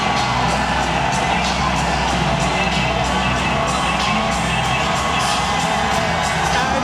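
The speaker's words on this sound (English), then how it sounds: "what a response he's getting from this crowd" Arena crowd at a fight event roaring and cheering for fighter Diego Brandão, a loud, continuous wash of cheers, whoops and yells with no break.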